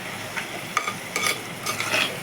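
Chili powder stirred into hot oil for ennai kathirikai kulambu, with a steady soft sizzle broken by a few sharp scraping stirs of a spoon against the pan, close and without talk.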